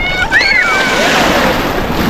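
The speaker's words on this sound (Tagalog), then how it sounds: "lakas yung alon oh" Strong ocean waves surging where a child is swimming, a loud, continuous close-up rush of surf with wind buffeting the microphone; a voice calls out briefly at the start.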